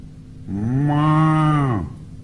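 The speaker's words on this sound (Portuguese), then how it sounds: "O boizinho veio e mugiu," An ox lows on a children's story record, a single long, full moo that swells and fades over about a second and a half, close and alone.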